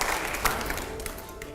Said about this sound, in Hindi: जोरदार तालियां प्ले करिए जरा